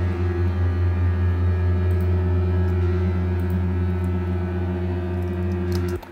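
Dry cello tremolo tracks with no reverb play as a dense, steady sustained chord of rapid bowed notes, holding evenly for about six seconds before cutting off abruptly.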